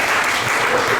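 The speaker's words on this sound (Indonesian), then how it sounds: "Tepuk tangan sebesar-besarnya." Audience applause at an AI event, a dense, steady burst of many hands clapping close and loud, with no talk over it.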